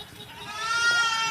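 A young goat kid gives one drawn-out, wavering bleat, close and fairly loud, that swells slightly toward its end.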